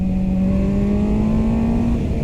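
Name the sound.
QJMOTOR SRK 921 four-cylinder motorcycle engine growling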